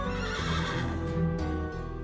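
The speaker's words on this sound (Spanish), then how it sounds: "¡Esos caballos sí que extrañaban a Dulce!" Cartoon horses give a short, loud burst of neighing and whinnying with clip-clopping hooves, close and clear over a music bed, no talk.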